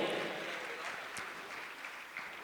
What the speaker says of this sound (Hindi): जोरदार ताली बजाकर सम्मान करें